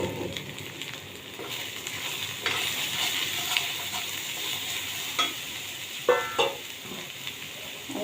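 Cumin, coriander, chili, turmeric and salt frying with browned onions in a pan for fish curry, a steady hiss of sizzling with occasional scrapes and knocks of stirring, louder near the end.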